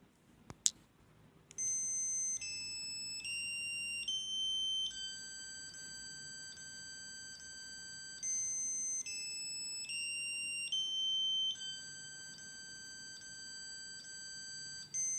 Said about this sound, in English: we actually can check the alarm straight away by pressing the right button here.